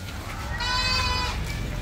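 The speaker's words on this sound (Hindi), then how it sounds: "फुल फिट एंड फाइन बकरी है।" A Hyderabadi Sojat goat on a farm gives one loud, wavering bleat of about a second over low background noise.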